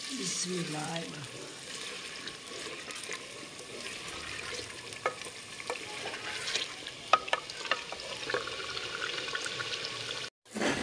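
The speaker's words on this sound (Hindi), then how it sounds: "अभी दादो माँ आलू डालने लगे हैं इनको दादी माँ जी मसाले में अभी भूनना है" Potatoes fry and get stirred in masala in a village kitchen, a soft continuous sizzle broken by spoon scrapes and clinks, heard up close at low volume, with a short break near the end.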